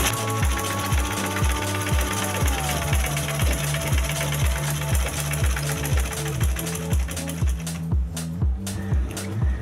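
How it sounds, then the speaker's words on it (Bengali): A sewing machine stitches fabric in a quick even clatter of repeated needle strikes at close range. A faint tone runs above it, and the clatter briefly quiets near the end. "এবার আমি এই যে মিটারটা রয়েছে সবার নিচে দিয়ে দিলাম, সেলাইটা আমি শুরু করলাম।"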